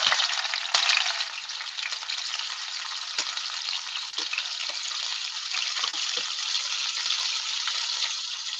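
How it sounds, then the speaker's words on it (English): Pieces of saltfish frying in hot oil in a pot, a steady, dense crackling sizzle that carries on unbroken and fairly close, with no voices over it. "we're gonna add our salt pieces of saltfish to the pot. This oil is hot."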